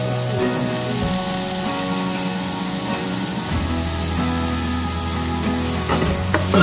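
Grated carrots frying in ghee for a sweet carrot dessert, a steady dense sizzle that runs unbroken throughout, with faint stirring scrapes mixed in.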